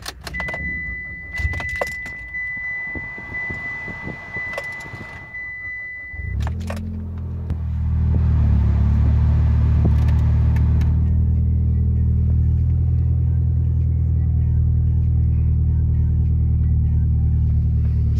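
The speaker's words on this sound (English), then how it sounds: "This particular unit does have an aftermarket exhaust as well, which you might be able to hear here." A 2009 Ralliart fitted with an aftermarket exhaust starts up after some clicks and rattles in the cabin, then settles into a loud, deep, steady idle rumble that fills the rest of the recording.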